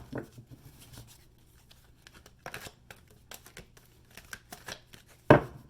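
Tarot cards are shuffled and handled in soft, uneven bursts of riffling and flicking, close by and quiet, ending with one sharper snap.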